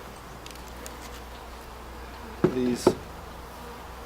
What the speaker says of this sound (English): sometimes the bees are shipped, they could be in these cages 2 to 3 days